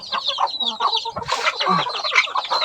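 A bantam chicken clucks continuously and loudly up close, giving a busy run of short, rising calls with a brief scratchy flutter partway through.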